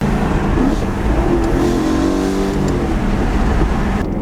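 A BMW E92 M3 pulls away, its engine note loud and near, holding a low rumble with a brief rise in revs before easing off.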